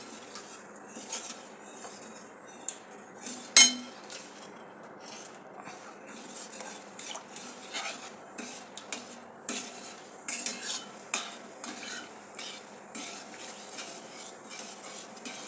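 A metal spoon scrapes and clinks steadily against a pot while wheat kurdai batter is stirred on a low flame, the taps fairly close and irregular, with one sharper knock early on.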